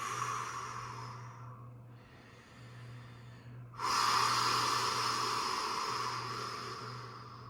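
Deep yoga breathing during a yin class, a slow full inhale followed by a long, louder exhale, close and clear, with a low steady hum beneath.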